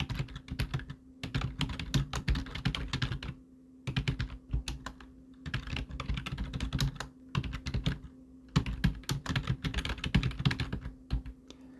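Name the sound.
typing text on a computer keyboard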